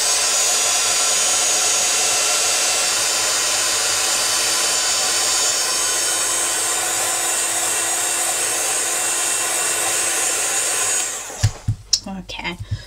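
A hair dryer runs steadily and loudly for about eleven seconds, blowing to dry layers of paint in a mixed media spray-and-swipe piece, then cuts off, leaving a few brief handling knocks.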